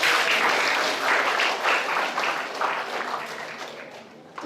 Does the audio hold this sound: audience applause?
yes